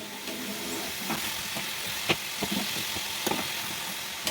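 Gujiya frying in hot oil over a low flame, a steady soft sizzle with occasional sharp clinks and scrapes as the pastries are turned with a utensil.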